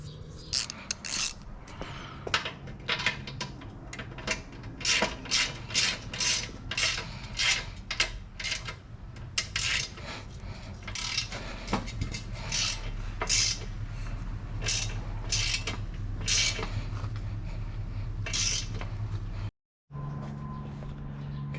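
A Teflon-taped drain plug is threaded into a Harbor Freight 8-gallon air compressor tank, giving close, irregular metallic ticks, scrapes and ratcheting clicks, with a low hum running beneath and a brief drop to silence near the end.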